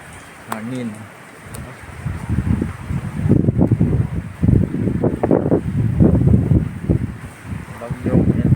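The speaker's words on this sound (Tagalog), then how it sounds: "Malakas ng hangin dito sa Bacoor guys." Strong typhoon wind gusts in Bacoor, buffeting the microphone with loud, rough low roaring that swells and fades in waves, while someone talks over it.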